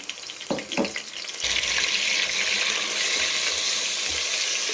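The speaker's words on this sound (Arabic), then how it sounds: "انا غادي نبدا نقلي في البصل تاعي" Onions fry in a pan with a steady, close sizzle that swells after a couple of utensil knocks and scrapes at the start, then holds a loud, even hiss with no talking.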